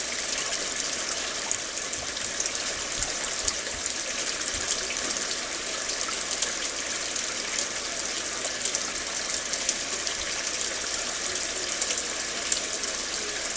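Water runs and gushes steadily and close by, a continuous broadband rush that holds an even level throughout with no talking.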